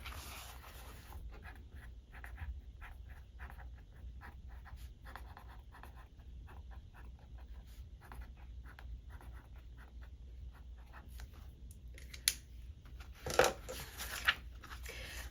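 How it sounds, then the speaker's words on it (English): Pen strokes from a Papermate Flare felt-tip scratching across planner paper, soft and close, a steady run of short scribbles with a few sharper taps and paper handling near the end. "so the Papermate Flare is not bleeding through."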